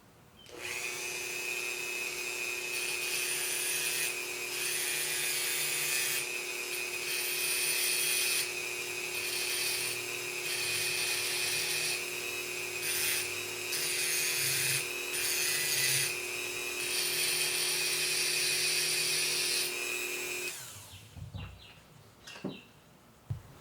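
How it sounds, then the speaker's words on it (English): A Dremel rotary tool grinds a Mazda BP engine block, giving a high, steady whine in repeated bursts with short pauses. It cuts out near the end, leaving a few faint clicks and knocks. "Turns out it's really tedious, so I choose to use a Dremel."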